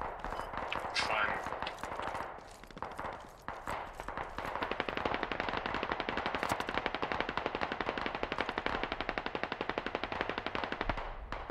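Sustained rapid automatic gunfire in the Squad military simulation game, dense overlapping bursts running nearly continuously at high loudness, with a voice briefly speaking under the shooting.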